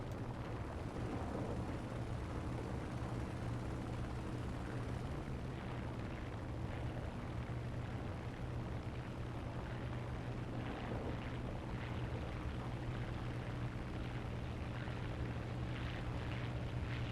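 Propeller engine of an A-1H aircraft in a video game, a steady droning roar with a constant pitch and no talk.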